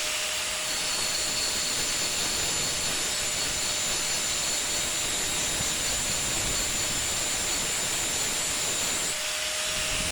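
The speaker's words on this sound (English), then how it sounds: "I'm just going to take a grinder to both of these and get them cleaned up" An angle grinder scours rust off metal parts in a steady, loud, hissing whine that holds without a break for about nine seconds, then drops away briefly.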